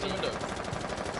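Rapid automatic gunfire fills the clip in a dense, unbroken burst during a Rainbow Six scrim match, with a player's voice heard over it.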